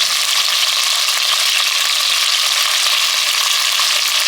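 Meat for Texas chili sears in a hot pan with a loud, continuous, dense sizzle and crackle that holds steady throughout and has no talk over it.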